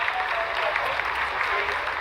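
Dense applause from a crowded room during the live Chandrayaan-3 landing broadcast, steady and sustained throughout, with a faint murmur of voices mixed in.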